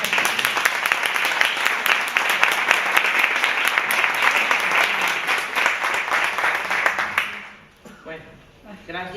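Sustained applause from a crowd, dense clapping for about seven seconds before it fades into quieter scattered sounds.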